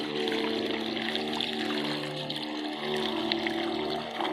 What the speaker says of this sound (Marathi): औषधाचं पाणी ओतलं